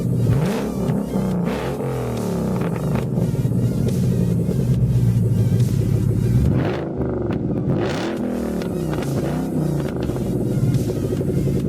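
A Ford Mustang GT with the mufflers removed, axle-back muffler deletes and custom tailpipes, giving a loud, steady, deep exhaust rumble close by, with revs rising and falling and a brief dip midway, no talk.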